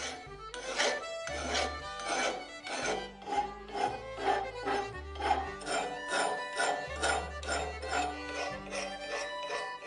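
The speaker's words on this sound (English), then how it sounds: "Since we're doing this completely by hand, we're going to use a file." A steel file rasps along the edge of a hand-forged Viking axe in steady back-and-forth strokes, close up and partly masked by music with a prominent bass line.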